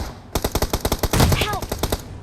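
Rapid automatic gunfire in the video game PUBG Mobile, a quick burst of about a dozen close, loud shots over a couple of seconds.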